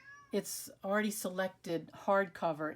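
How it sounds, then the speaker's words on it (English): A pet cat meows several times in a home, its short, bright calls mixed in with someone talking steadily close to the microphone. "That noise you're hearing in the background is our cat"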